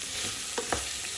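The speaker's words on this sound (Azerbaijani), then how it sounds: "Karıştırıram." Potatoes and onions frying in a pot are stirred, a constant close sizzle broken by two quick scraping stir strokes in the middle.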